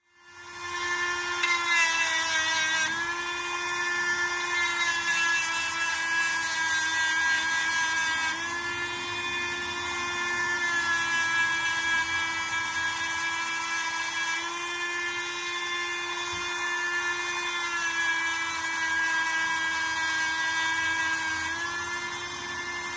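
Rotary engraving tool fitted with a green carbide stone grinding into a glass surface, a steady high-pitched whine with a bright buzzing edge that holds continuously and loud, briefly dipping and resuming as the tool lifts and returns.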